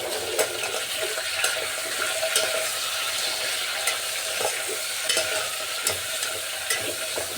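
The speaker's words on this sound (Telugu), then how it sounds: "నెక్స్ట్ వచ్చేసి టమాటా ఆలుగడ్డ కలిపేసుకోండి" Tomato and potato being stirred into a vegetable biryani with basmati rice, a steady scraping stir with soft frying sizzle and occasional utensil clinks against the pot, close and continuous with no talk.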